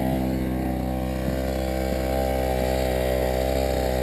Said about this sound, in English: Now the clutch kicking in.